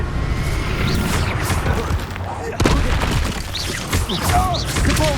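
Confringo explosive spell in Hogwarts Legacy on PS5, booming blasts and thuds amid combat clatter, with a sharp hit near the middle and voices over the fighting.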